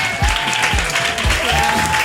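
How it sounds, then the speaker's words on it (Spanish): An audience clapping for a group of women scientists at an event, a short steady patter of applause with a few thumps and faint murmuring underneath. "Un aplauso para nuestras científicas."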